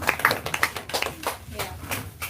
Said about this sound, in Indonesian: tepuk tangan untuk Bunda Tari.